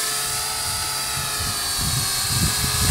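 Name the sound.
JJRC H47 drone motors flying forward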